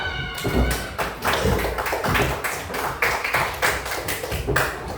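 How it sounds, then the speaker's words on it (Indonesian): Children in a classroom clap their hands together in a run of quick, roughly rhythmic claps, fairly close and moderately loud, with faint voices mixed in. "kita tepuk tangan dulu semuanya"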